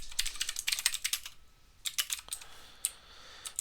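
Fingers type on a computer keyboard in quick close bursts of key clicks, a short pause, then a few more irregular taps.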